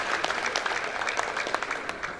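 Audience applause at a builders' conference opening ceremony in Nigeria, a continuous dense patter of clapping from a crowd held at a steady level throughout.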